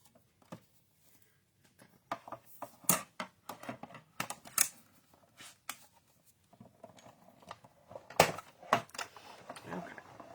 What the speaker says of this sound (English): We'll pull our machine back up and send our card through with the embossing folder to add that texture to it.